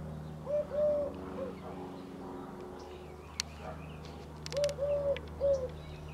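A nearby dove or pigeon coos in two rhythmic bursts of soft, repeated calls over a steady low electrical hum from an early-1960s General Electric portable black-and-white television.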